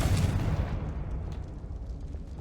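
A Confringo blasting spell in Hogwarts Legacy detonates as a loud, close explosion with a deep rumbling boom that slowly decays over a couple of seconds, with no talking.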